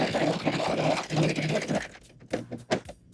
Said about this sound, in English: overlap your stitches and serge off